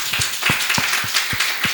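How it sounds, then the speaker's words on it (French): Studio audience applause on a French-language talk magazine about daycare centers, a short burst of brisk, fairly even clapping from a small group, close and steady. "Ça s'applaudit,"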